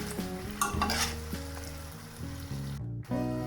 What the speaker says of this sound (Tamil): எண்ணெய் நுரை அடங்கி இந்த வெட்டு பலகாரம் மிதந்து கொண்டு இருக்கும்.